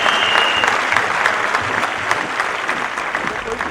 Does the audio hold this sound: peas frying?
no